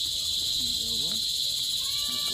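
Dense, high-pitched cricket chirring fills the air continuously, with faint voices talking softly underneath.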